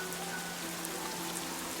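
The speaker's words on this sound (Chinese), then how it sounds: "又突然下起了大雨" Steady rain falls in a film scene set in woods and fields, a faint, even wash of patter with a low hum underneath and no voices.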